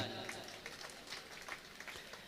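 Audience members at an All India Mushaira poetry gathering in Siwan, Bihar clap faintly and at a distance, a soft continuous patter lasting a couple of seconds.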